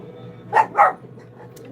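Two quick dog barks close by, one right after the other, with a faint yip a moment later against a quiet indoor background.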